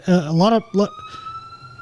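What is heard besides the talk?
ambulance siren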